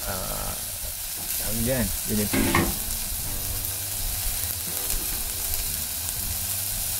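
Saluyot (Egyptian spinach) adobo frying in a pan over heat, a steady sizzle with stirring scrapes running throughout, while a person talks over it.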